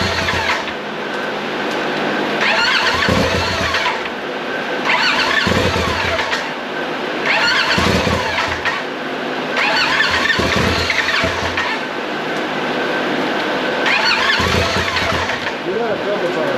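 A rebuilt Polaris XP Turbo engine cranks and tries to fire in repeated loud bursts of roughly two seconds each, close up, with a voice talking in between.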